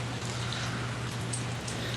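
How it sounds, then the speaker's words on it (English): Rain falling outside on an evening, a steady, even patter of drops with a faint, constant hiss running through the whole stretch, with no voices over it. "Yeah, it sounds like it's raining."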